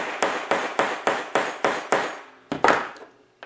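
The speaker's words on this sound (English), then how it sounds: "And then I can tap it into place." A small socket tapped onto a gear during a 1/10 Tamiya Sand Scorcher Baja Bug RC car build: seven sharp, evenly spaced metallic taps, then a pause and two or three louder, less regular knocks, close and clear with nothing else behind them.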